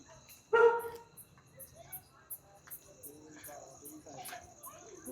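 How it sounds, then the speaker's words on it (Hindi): A dog gives one clear bark at a distance in a park at night, followed by faint scattered yips, while crickets chirp steadily in the background. "कुत्ता मुझे देखे पहचान लिया, भौंकना शुरू हो गया है।"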